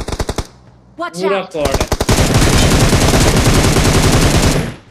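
Automatic gunfire in PUBG Mobile tournament scrims: short bursts open the clip, then a voice speaks briefly, and a long, loud, rapid volley follows.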